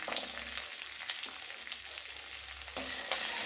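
Steady sizzling and crackling of shallots and curry leaves frying in hot oil, with a few sharper pops near the end, close up and without talk.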